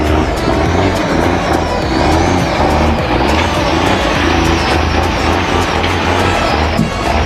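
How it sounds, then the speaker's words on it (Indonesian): A super truck, a log carrier, drives with a loud, heavy engine drone that rumbles steadily throughout, close by, with slight surges and no speech over it. "wah ini ada super truk teman-teman"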